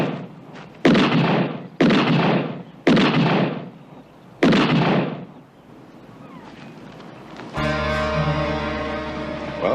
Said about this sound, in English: those are real bullets